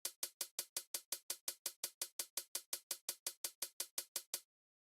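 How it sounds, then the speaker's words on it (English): A dry hi-hat drum sample with no effects repeats about two dozen times in even, quick succession, each hit short and crisp with a fast decay, alone and fairly quiet before silence. "The hat sounds like this with no effects."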